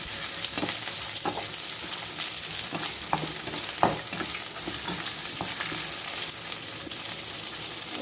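Food sautés in a pan under a dense, steady sizzle, with scattered scrapes and taps of a spatula stirring it throughout.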